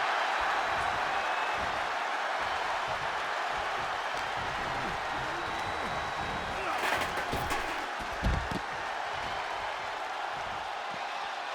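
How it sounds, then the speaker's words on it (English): A wrestling video game crowd for a Randy Orton versus Seth Rollins ambulance match roars continuously in the background, a steady dense wash of arena cheering with a few impact thuds near the end. "What a raucous crowd here tonight."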